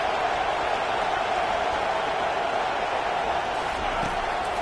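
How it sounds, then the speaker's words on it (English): Stadium crowd at an American football game, roaring as the defense lines up on third down, a dense, continuous wash of cheering and noise that stays loud and even throughout. "Decibels rising as the crowd gets behind this defense on third down."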